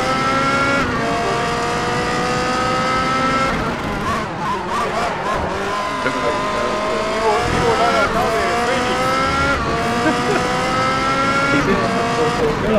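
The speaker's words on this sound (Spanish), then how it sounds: "Sonó un auto." Racing car engine from Race Driver GRID, a continuous loud whine with shifting pitch sweeps and gear changes, close and steady throughout with some tire noise, alongside occasional speech.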